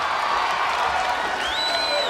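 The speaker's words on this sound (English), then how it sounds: "Listen to his cheering section go wild." A large crowd at an American Gladiators competition roars and cheers loudly in a dense, continuous wash of noise, with shrill whistles and whoops rising above it.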